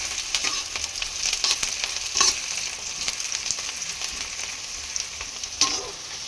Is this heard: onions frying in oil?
yes